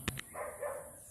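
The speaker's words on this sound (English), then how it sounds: "sorry for the barking in the background" A dog barks twice in quick succession, short sharp yelps heard at a distance, followed by quiet background room tone.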